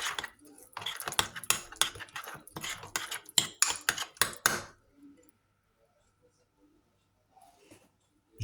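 Meat sauce seasoned with salt being stirred: a utensil clinks and scrapes rapidly against a pot for several seconds, close and busy, then stops into near silence with faint small knocks.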